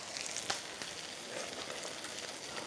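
Salted food sizzles and crackles steadily in a frying pan while being stirred, a soft continuous hiss with a light scrape early on and no talking.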